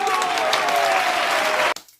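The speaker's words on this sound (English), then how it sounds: "Let's give the Lord a hand clap." A group claps together in steady, close applause that runs evenly for under two seconds, then cuts off abruptly, leaving a brief faint tail.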